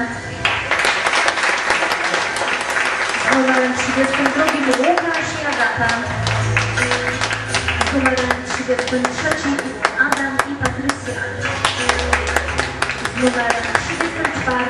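Audience applause and clapping for standard-style ballroom dancers at a competition, steady and fairly loud throughout, with an announcer's voice and music running underneath.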